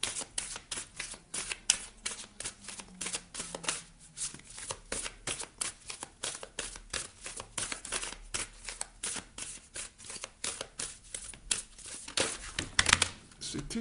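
Goddess, god and guardian oracle cards are shuffled and drawn by hand: a dense, continuous run of crisp riffling clicks and flicks up close, with a sharper card snap near the end and no talking.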